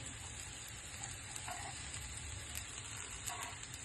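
Slices of elephant yam shallow frying in oil in a pan, a steady soft sizzle with faint bubbling throughout and a couple of light utensil ticks, close and continuous with no talking.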